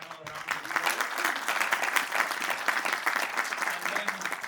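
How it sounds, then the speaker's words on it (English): Audience applause for a panel at a Johannesburg innovators event, a full, even burst of many hands clapping close and loud, with a faint voice under it at the start. "let's give our panel a round of applause."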